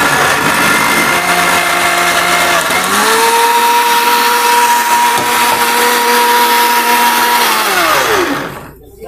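An 850 watt commercial blender motor whirs loudly and steadily, its pitch climbing as it spins up, holding a constant high drone, then winding down and cutting off near the end.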